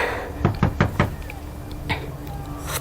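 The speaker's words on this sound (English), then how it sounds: "Just knock." Four quick raps on a door, close and sharp, followed by a softer single knock a moment later, over a low steady hum.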